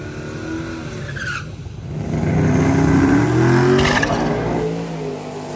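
Street race cars launch in rain on a wet road, including the Pony Express truck, with engines revving up into a loud sustained roar and a brief tire squeal, no talk.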